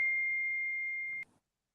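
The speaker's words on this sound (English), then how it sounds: "that beeping has got to go" A steady electronic beep tone sounds continuously for over a second, then cuts off abruptly with a faint click, with no one talking.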